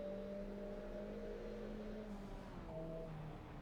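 A sustained, droning engine note from an old VW Golf in the Assetto Corsa EVO racing game holds steady through a front-wheel burnout, shifting pitch near the end, with no talk over it.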